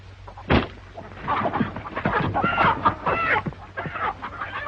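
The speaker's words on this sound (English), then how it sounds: "Oh, he can't hurt them chickens." Chickens cluck in a run of short, choppy calls, fairly close and moderately loud, with a sharp thump near the start.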